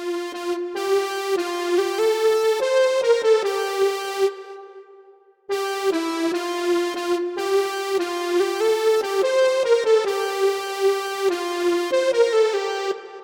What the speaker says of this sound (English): But then I added this lead melody.